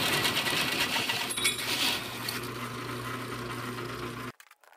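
Hole saw or cutter boring 1¼ inch holes through steel square tube, a steady loud grinding, whirring cut with a constant motor hum that runs for about four seconds and then stops abruptly.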